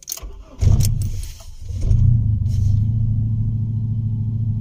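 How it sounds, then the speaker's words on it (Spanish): A car engine starting: a short crank around the half-second mark, a second cranking burst, then the engine catches at about two seconds and settles into a steady, close idle rumble with no talking. "Lo primero va a ser encender el auto."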